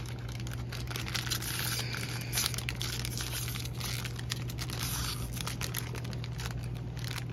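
Crinkly plastic packaging being torn and pulled open by hand, producing faint, steady crackling and rustling bursts throughout with no talking.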